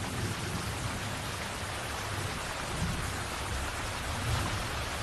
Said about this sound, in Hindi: बारिश का मौसम आ गया है।